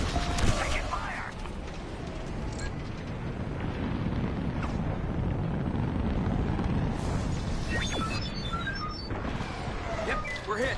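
Rumbling explosions and crackling blasts fill a space dogfight in the Star Wars Squadrons game as the ship takes hits, a dense, sustained roar with a sharp impact near the start and voices talking over it.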